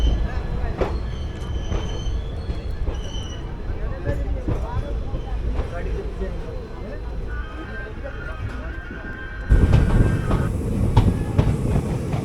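Runicha Express train rolling out of Jaisalmer, heard from inside: continuous rumble with rhythmic wheel clatter and occasional squeals, growing louder near the end, with people talking in the background.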